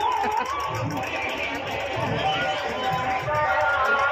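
A busy crowd at a village fair in Korba district, steady babble of many voices and movement close by, with someone talking over the hubbub.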